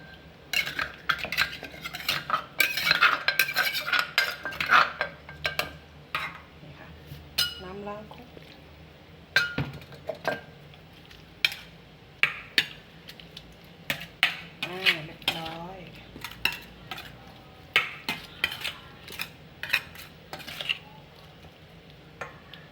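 Herb ingredients and a little water, used to rinse the mortar, being stirred and scraped around a mortar for steamed herbal chicken, irregular clinks and knocks with a wet churning, a voice talking partway through.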